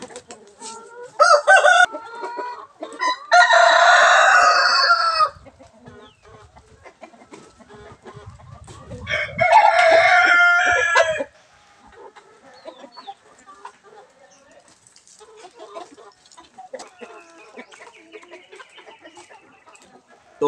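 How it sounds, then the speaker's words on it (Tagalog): A large broodcock rooster crows loudly and close in several bursts, with hens clucking and murmuring softly in the quieter stretches between crows. "Ito po yung gagawin kong broodcock."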